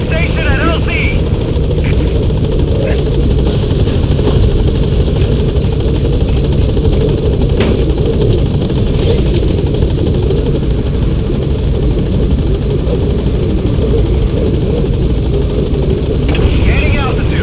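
The B-Quad helicopter in Metal Gear Solid V comes in toward the landing zone with a loud, close, continuous rotor roar and low thumping. Radio-style voices talk over it.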